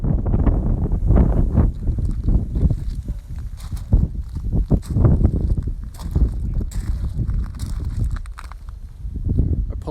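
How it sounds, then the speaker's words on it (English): Gusty wind buffeting the microphone outdoors beside a Honda Civic 1.5 VTEC Turbo Prestige, in heavy low rumbling bursts, rising and falling irregularly, with no clear voices. "I apologise, it's quite windy today,"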